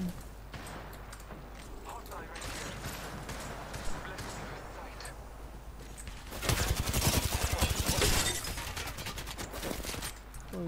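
Video game gunfire in Gun Run mode: scattered shots over a busy game background, then a dense rapid volley of automatic fire for a couple of seconds before it trails off, with a voice talking throughout.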